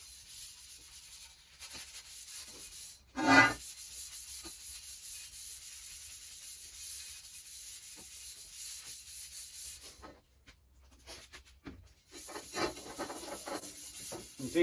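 A cloth rubbing protective oil off a steel tube for a spaceframe, a soft continuous scrubbing hiss with one sharper scrape near the start and a brief pause before the rubbing resumes.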